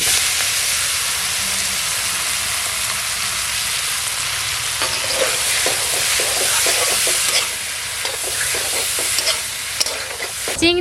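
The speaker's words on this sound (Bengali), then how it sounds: "এখন চিংড়ি ভাজা তেলের মধ্যে কচুরলতিটা ছেড়ে দেবো।" Kochur loti, taro stolons, hit oil left from frying shrimp with a loud, roaring hiss, then settle into vigorous close sizzling and popping as they are stirred with repeated scraping clacks.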